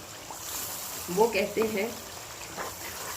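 Masala spices frying in a pan for beef karahi, a soft continuous sizzle under someone talking.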